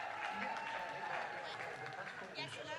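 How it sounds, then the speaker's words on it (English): Crowd cheering and applauding at the White House, a faint, distant wash of clapping and voices underneath close speech. "They're just cheering."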